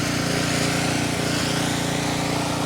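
A lawn dethatcher grinds through thick grass, a loud steady engine roar with dense rattling noise, continuous and close.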